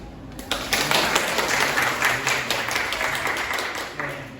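Loud, sustained applause from a classroom group, many hands clapping briskly and evenly with a few voices faintly mixed in.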